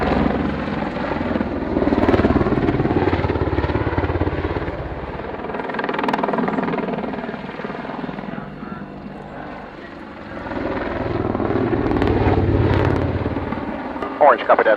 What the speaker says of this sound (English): So a couple of very nice painted aircraft coming up for you.